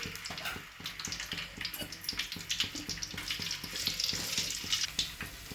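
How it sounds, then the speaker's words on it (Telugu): A small piece of ginger frying in oil for mint roti pachadi gives a faint, steady sizzle with soft intermittent clicks, no voices present. "ఇక ఒక చిన్న అల్లం ముక్క, ఇది మంచిగా నూనెలో కాల్చుకోవాలి"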